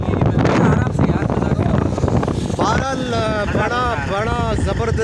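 Heavy wind buffets the microphone on a motorbike carrying three friends through Karachi, gusting loudest at first, then easing under close, cheerful talking.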